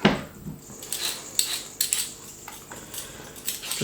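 Parsnips are scraped with a peeler in a home kitchen, giving scattered dry scratching strokes and light clinks against a board or bowl, close and fairly quiet, with no one talking.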